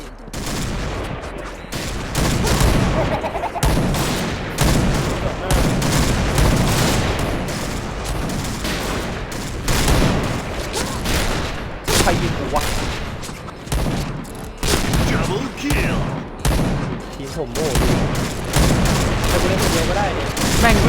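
Loud, dense gunfire from a shooting video game with Barrett sniper rifles, sustained bursts and rapid volleys crackling almost nonstop for about twenty seconds, with booming shots mixed in.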